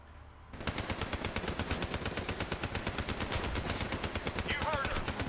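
Enemy gunfire in Call of Duty Black Ops 3, a rapid sustained burst of automatic shots with a steady rhythm, loud and close, lasting several seconds with a brief voice near the end.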